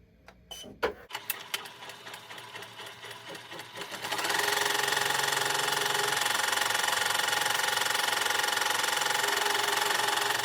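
An embroidery machine stitches the tack-down on an in-the-hoop teacher pencil mug rug, starting with a few clicks and then settling into a steady, fast, loud mechanical whir that runs on unbroken.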